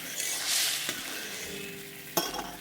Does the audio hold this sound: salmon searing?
yes